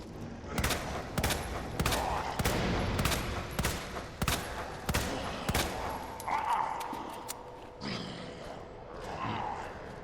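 Gunshots in Resident Evil 2, a steady series of sharp, loud single shots spaced about half a second apart, with some game noise between them.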